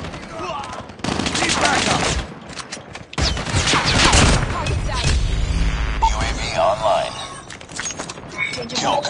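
Gunfire in Call of Duty Mobile, with loud bursts of rapid automatic shots and single cracks in separate bursts, mixed with game effects and other noise in between.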